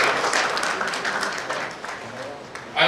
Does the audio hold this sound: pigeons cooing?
no